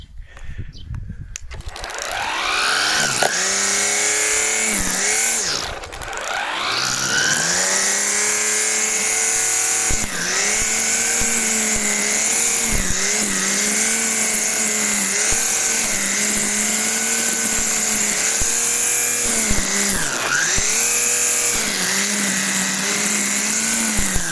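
A Parkside PPFSA40LiB3 cordless 2-in-1 brush cutter runs loud and close at speed 3, giving a steady high electric whine that dips and recovers briefly a few times under load.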